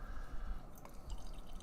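Jelly Not Jam banana, pineapple and coconut kettle sour beer from Burley Oak Brewing poured into a tulip glass, a soft continuous trickle and fizz close by, quiet and steady without talking.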